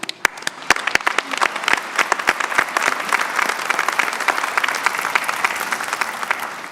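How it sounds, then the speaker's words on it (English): Applause from a convocation crowd for graduating PharmD, dental hygiene and dentistry students, starting with a few sharp separate claps and swelling into steady, sustained clapping from many hands in a large hall. "please join me in giving our PharmD, dental hygiene, and dentistry graduates a round of applause"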